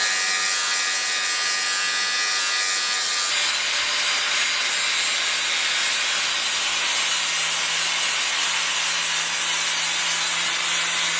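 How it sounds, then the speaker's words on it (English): An electric sander grinds steadily against a build piece, a loud continuous harsh whir that shifts pitch slightly a few seconds in and keeps running without pause or talk. "I'll refine it a bit more with the sander"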